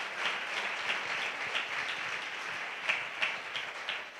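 A church congregation claps and applauds in a steady, dense wash of hands, moderately distant and even, with a few sharper claps standing out and no speech.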